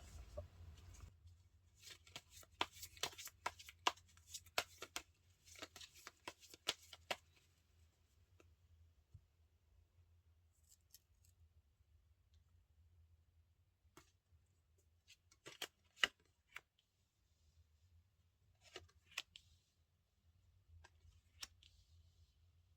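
Tarot cards being shuffled make quick, soft papery riffles and taps in close, quiet bursts, with short pauses between flurries.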